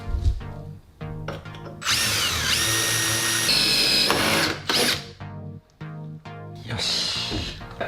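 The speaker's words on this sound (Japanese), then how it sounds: "縦2本のフレームの後ろ側の方ですね、穴を開けてボルトで留めていきたいと思います。" A power drill bores a bolt hole through a wooden frame, whining loudly in several bursts that rise and stall as the bit bites, with brief pauses and a clicking, ratcheting texture between runs, close by.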